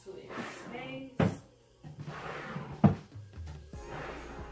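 IKEA Alex drawers slide back into the unit, with two sharp bumps as they seat, surrounded by softer rubbing and handling noises and some quiet sounds in between.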